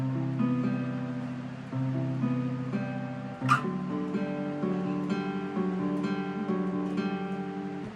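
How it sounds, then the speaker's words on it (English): Clean guitar plays the second half of the intro to a song, a steady, picked, ringing pattern with shifting chord shapes and one brief bright accent midway, close and unaccompanied. "Then the second half of the intro will sound kind of like this."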